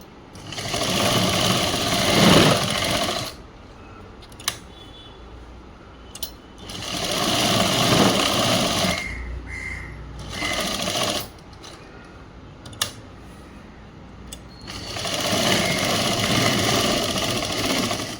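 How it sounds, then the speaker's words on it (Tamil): Sewing machine stitching a school uniform chudi top, bursts of rapid mechanical whirring lasting several seconds each, separated by quieter pauses with faint clicks, close and loud, no talking. "ராங் சைடில் ஒரு தையல்."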